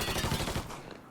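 Gunfire rattles in the Mafia 3 video game, a short, dense volley of rapid shots fading out within about a second.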